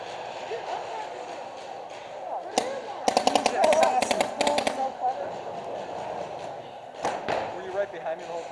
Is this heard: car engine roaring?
no